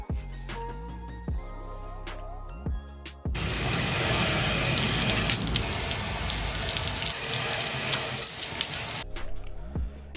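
Water rinsing over a glass enclosure being scrubbed and scraped clean, a loud steady gush of running water lasting several seconds, framed by quieter scraping and handling noises before and after.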